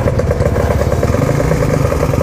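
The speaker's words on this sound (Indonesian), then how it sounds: "Gua belum manasin motor lagi" A motorcycle engine idles while warming up before an early-morning ride, a loud, close, steady low throb with a rapid even pulse and light mechanical clatter, alone with no talk.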